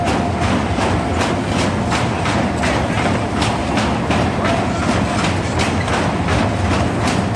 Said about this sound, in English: check out the sound this thing makes. It sounds like the largest train is coming into station.